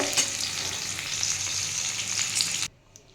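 Pointed gourd (parwal) fries in hot oil in a pan, a loud, dense sizzle with faint stirring that stops abruptly near the end, leaving near silence.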